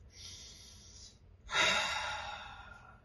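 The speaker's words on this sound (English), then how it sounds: "Let's take a big deep breath." A single deep inhale followed by a longer, louder exhale, close and breathy, taken at the start of a group prayer meditation with eyes closed; no talking over it.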